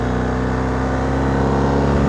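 A BMW R1250GS Rallye TE motorcycle engine held in first gear through a corner, a loud, steady low-pitched drone and rumble with no talk, heard up close throughout.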